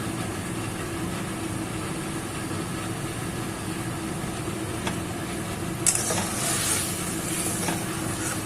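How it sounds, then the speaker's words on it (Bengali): Dahi ilish gravy beginning to boil in a pan, a continuous loud bubbling sizzle with a steady low rumble, plus a brief clink and a short rise in spattering near the end. "গ্রেভিটা ফুটতে শুরু করেছে আস্তে আস্তে"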